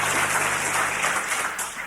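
A canned applause effect played on a radio broadcast, a continuous crowd-like clapping wash that thins slightly toward the end, heard alone without speech.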